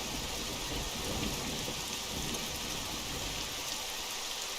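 Steady, dense rain hiss in the fantasy MMO EverQuest 2, falling in the Elder Grove area, a continuous broadband wash with no breaks and a faint low rumble beneath it.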